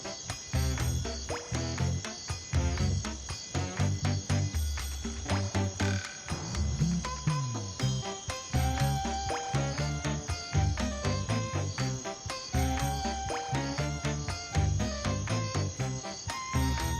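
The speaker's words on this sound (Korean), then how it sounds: "아니 아버님 여기 왜 개구리가 있어요?" A tree frog kept inside a Chinese restaurant croaks loudly and continuously, its rapid repeated calls packed closely together and close to the listener, with no talking.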